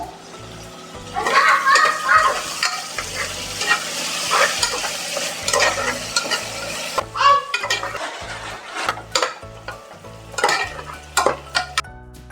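Onions fry in oil in a pan with rock salt, a steady sizzle under repeated scraping stirs and metallic clinks of a spoon against the pan, loud and close, with no talk.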